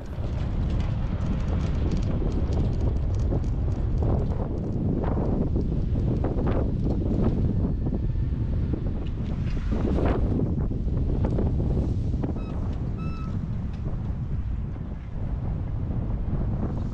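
Strong wind gusts roar across an outdoor garden during flower bed cleanup, a loud, steady broadband rush with buffeting microphone noise throughout and no talking.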